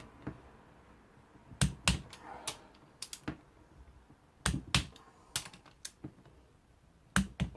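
A torque wrench clicks repeatedly while an engine top end is tightened during a scrambler rebuild, sharp isolated snaps in small clusters, close and crisp with no talk.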